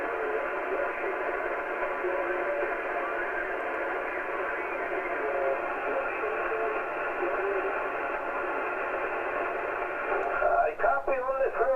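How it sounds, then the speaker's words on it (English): Ham radio receiver hiss and band static with a very weak signal buried in the noise, a steady continuous wash for about ten seconds, ending with brief warbling bursts of interference. "very difficult copy, lots of noise and very weak signal"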